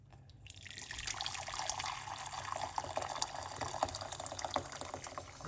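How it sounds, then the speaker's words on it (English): Hot water being poured into a pot, a steady close splashing stream that starts abruptly and continues with gurgling, bubbly fill sounds, fairly quiet with no talking. "then I'm going to pour some hot water."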